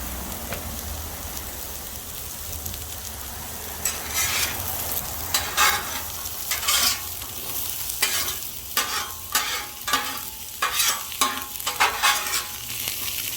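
Sweet potato and onion pieces fry in a pan with a constant hiss. Louder bursts of stirring and scraping break in repeatedly over the second half, and no one speaks.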